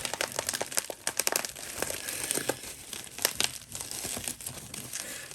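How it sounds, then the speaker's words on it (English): Packing tape is pulled and torn off a PowerRider box during unboxing, giving dense, close crinkling and ripping with irregular sharp crackles that run continuously, with no talking. "PowerRider struggles with tape."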